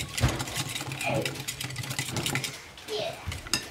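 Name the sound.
whisking evaporated milk and egg yolk for leche flan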